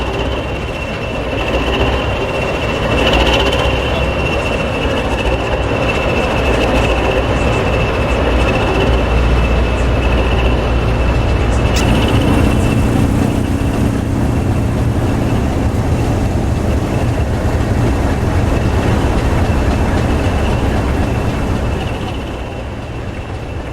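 A railhead treatment train headed by Class 20 locomotive 20304 with a Class 37 arrives, a loud, steady rumble of engines and rolling wagons close by, with a thin high whine and light wheel noise throughout.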